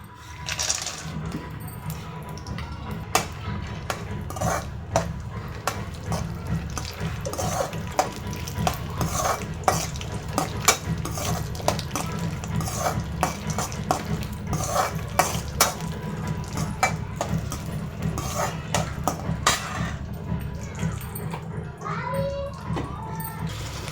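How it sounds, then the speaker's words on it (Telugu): Dry fruits fry in hot ghee in a kadai for carrot halwa while a spoon stirs them, with continuous fast metallic scraping and clinking over a low sizzle, close and steady, and no talk. "ముందుగా మనం డ్రై ఫ్రూట్స్ వేసి ఫ్రై చేసుకుందాం"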